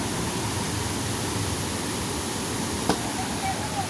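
Water rushes and flows steadily in an outdoor river setting at Arayat, a dense, continuous hiss that stays even and fairly loud throughout, with one brief faint click near the end.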